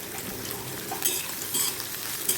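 Sliced onions sautéing in a pan give a steady close sizzle with a couple of brief scraping stirs, and no one speaks.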